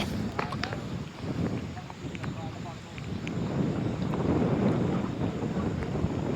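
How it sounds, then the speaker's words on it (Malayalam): Strong wind buffets the microphone with a steady rushing roar, rain and spray hissing beneath it, building louder toward the end. "മഴ പെയ്ത് നല്ല കാറ്റുമുണ്ട്"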